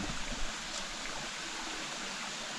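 Mountain stream flowing steadily, a broad even rush of water close by with no other sounds over it.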